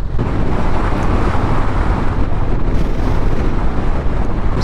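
Strong wind roars steadily across the microphone during a motorcycle ride on a remote Patagonia road, a loud continuous buffeting rush that swamps everything else for the whole stretch.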